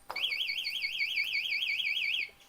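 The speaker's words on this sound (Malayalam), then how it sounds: "ഫസ്റ്റ് ഒരു വാർണിംഗ് പോലെ അലാറം അടിക്കും" A vehicle anti-theft alarm's warning siren warbles, rising and falling rapidly in a steady cycle for about two seconds, loud and close, then cuts off abruptly.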